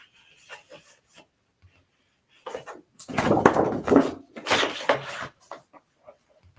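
Shaded spruce cardstock is cut for a card's focal layer, giving a few soft taps and then several close rasping, scraping strokes in quick succession before quieter handling noises.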